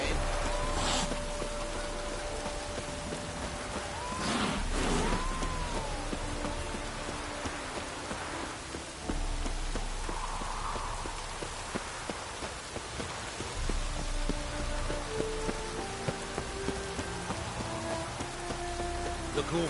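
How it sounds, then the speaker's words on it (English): Steady rain pours down in The Witcher 3 video game, a constant hiss across the whole stretch with a few brief louder bursts and faint background game sounds. "No use doing any work in this rain."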